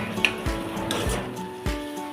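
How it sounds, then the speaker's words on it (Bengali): Spice paste sautéed and stirred in a pan, with soft sizzling and a few sharp scrapes and knocks of a spoon against the pan, close by with no talk. "তারপর এটা ভালোভাবে আমি কষিয়ে নিই"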